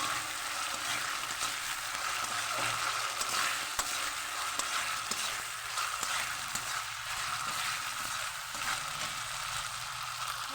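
Ginger paste fries in a pan for chicken curry, a continuous bright sizzling hiss with occasional stirring clicks and scrapes, steady and close throughout, with no talking over it.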